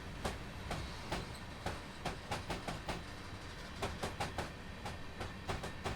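A train rolls along the track on the Sherman Hill route in a train simulator game, with steady, close clickety-clack of wheels over rail joints repeating in an even rhythm and no voices.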